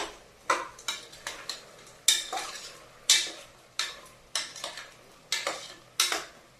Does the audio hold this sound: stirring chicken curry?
yes